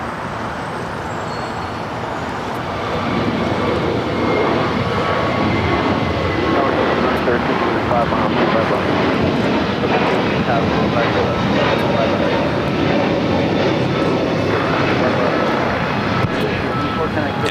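A Boeing 787-8 Dreamliner jet arriving from Tokyo Haneda at LAX, its broad engine roar steady and fairly loud after a quieter opening, under occasional voices.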